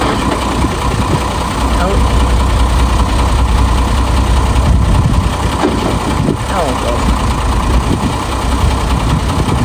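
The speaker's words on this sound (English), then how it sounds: "The gearbox is not supposed to sound like that" A faulty car gearbox gives off a steady, rough mechanical drone and grinding whine over a running engine, continuous and fairly loud throughout, during clutch repair work.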